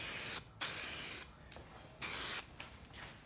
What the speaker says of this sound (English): We got some chrome spray paint right here.